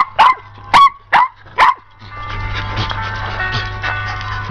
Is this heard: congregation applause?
no